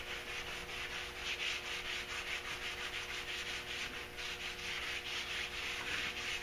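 Steady, close rubbing rasp of wet sanding on car body rocker panels in a cool garage, with a continuous gritty swish pulsing in even back-and-forth strokes, no talk.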